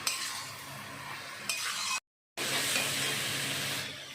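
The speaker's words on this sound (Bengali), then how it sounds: "শাক ভাজা হয়ে আছে এখন শাক ভাজা" Red spinach with garlic frying in a pan gives a steady bright sizzle with occasional stirring scrapes, cut by a brief silent gap midway before the sizzle resumes at the same level.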